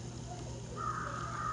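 Crow cawing in the video game Toca Life World, a steady, fairly loud call over a constant background hum, with no talk.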